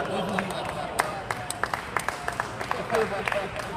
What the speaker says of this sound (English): I don't know why you gotta clap that.